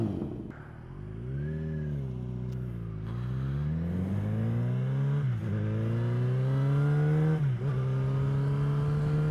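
A Yamaha XJ6 Diversion F motorcycle engine runs close by, its pitch rising through several successive revs with brief dips between, loud and steady.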